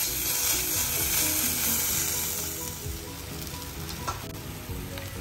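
Ginger garlic paste hitting a pan of salted frying onions, giving a steady, dense sizzle that stays loud throughout and eases slightly toward the end, with a faint scrape of stirring.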